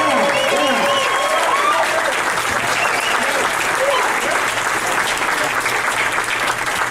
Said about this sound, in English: Let's give it a round like we did before at the golf clap.